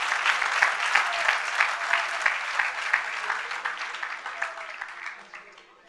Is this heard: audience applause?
yes